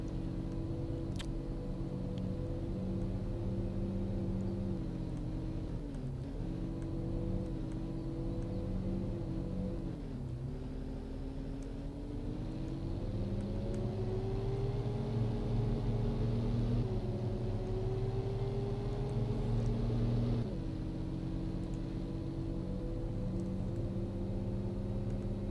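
A farm vehicle driven in Cattle and Crops gives a steady, close engine drone with harmonics that rise and fall as the revs shift, running continuously and alone.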